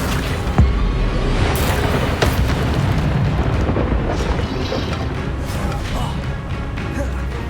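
An Incendio fire spell in Hogwarts Legacy erupts in loud rumbling, roaring blasts with a sharp burst near the start, a dense, continuous fiery rush under busy combat noise.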